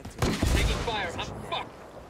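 Gunfire in the video game Ghost Recon Wildlands, a short burst of sharp shots during a firefight, followed by fainter chatter-like tones and a lingering noisy tail.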